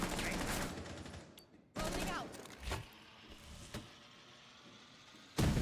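Bursts of automatic gunfire erupt in a Rainbow Six Siege college esports match, loud rattling volleys at the start and end with quieter sporadic shots between, while a commentator talks over the action.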